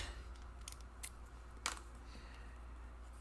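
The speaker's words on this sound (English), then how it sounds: "Scissors." Quiet, close snips of scissors cutting paper, several short crisp cuts spaced irregularly against a soft background hum.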